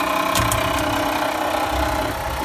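A K50 drain cleaning machine runs on a clogged floor drain, making a loud, continuous motor drone with rumbling vibration and a few brief higher clatters near the start.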